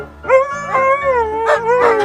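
A young dog howls and yips in rising, wavering cries, several short whining calls following one another close by, with no talk over them.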